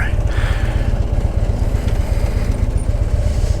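A worn-out old motorcycle engine drones steadily while riding, a loud continuous low throb with fast regular pulsing and wind rush, no voices.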